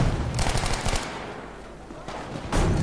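Bursts of automatic gunfire from the online shooter game Battlefield 5 rattle loudly, one sustained burst followed by a pause and then another burst starting up, with no speech.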